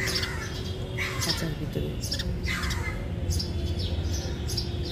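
Young house sparrows in a nest at home give high, repeated chirps and squawks in short clusters, near and fairly loud, while a person talks over part of it.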